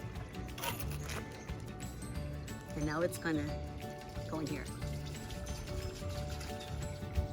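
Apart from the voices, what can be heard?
gray water draining from RV tank through hose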